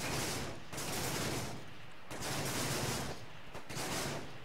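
Continuous rapid gunfire from a video game firefight, loud and dense bursts running almost nonstop with brief dips, no talk over it.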